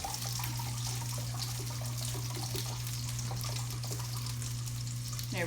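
Apple cider vinegar pouring in a steady stream into a container, a continuous liquid splash and trickle beneath a constant low hum, close and even throughout.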